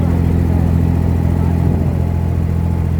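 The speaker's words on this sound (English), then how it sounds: "Little diesel pushing us along nicely." A small diesel engine drives a boat along Dubai Creek, chugging steadily and loudly at close range with a constant low throb and no change in pace.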